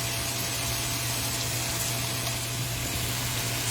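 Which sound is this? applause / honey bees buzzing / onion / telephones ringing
onion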